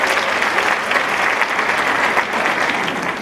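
Steady, dense applause from a large audience at an aviation gender summit, filling the hall at a constant loud level with no voices on top.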